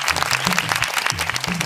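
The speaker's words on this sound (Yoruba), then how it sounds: "ẹ bá mi fún wọn látẹ̀wọ́" An audience claps loudly and steadily for quiz-show contestants on a Yoruba-language programme, a dense, continuous burst of applause with no voices over it.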